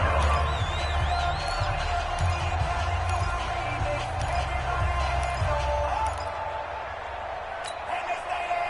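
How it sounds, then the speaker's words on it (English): Stadium crowd noise from a PS4 American football video game, a steady broad roar building ahead of a big third down, loud and continuous with a commentator's voice talking over it. "the crowd getting into it as we come up on a big third down"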